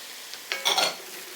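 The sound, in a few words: stirring leeks, carrots and celery in melted butter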